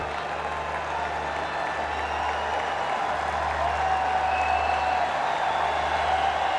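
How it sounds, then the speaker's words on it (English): A stadium crowd at a one-day international cricket match in Pakistan cheers and applauds a local batsman reaching his half century, a broad, distant roar of clapping and voices that holds steady throughout. "The local boy gets a huge cheer from the crowd."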